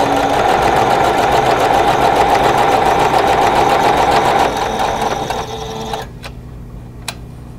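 Sewing machine stitching a quilt block seam: a loud, steady rapid whirring hum with fast needle rhythm that slows and stops near the end, followed by a couple of faint clicks.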